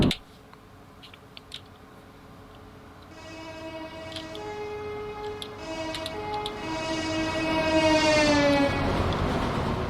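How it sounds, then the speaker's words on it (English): A diesel railcar in a train simulator game cruises along the Wherry Lines with a steady rumble, rhythmic clicks over rail joints and a rising harmonic engine drone that swells louder toward the end, with no talk. "Look at our train ricketing around."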